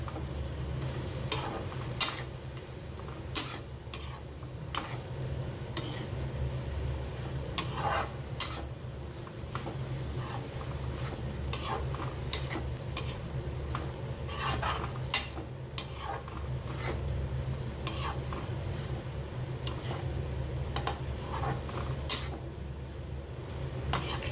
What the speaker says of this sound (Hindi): और अब हम इसमें मिला देंगे हमारी ब्रेड और इसको अच्छे से मिक्स कर लेंगे।